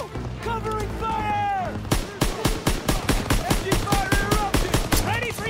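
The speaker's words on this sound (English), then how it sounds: "Gotta suppress the machine gun." An enemy machine gun rattles in a Call of Duty WW2 battle on Hill 493, a steady run of loud, evenly spaced shots after a short lead-in, with shouted soldier voices over the fire.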